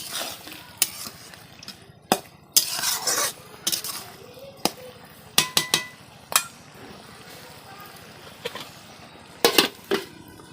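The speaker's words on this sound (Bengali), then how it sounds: "দেখো মশলা কষি এটা মাংসটা দেখো কষিয়ে নিচ্ছি" Mutton being stirred and braised with spices in a pan, with sharp irregular clanks and scrapes of a spatula against the metal, close by and loud against a quiet background.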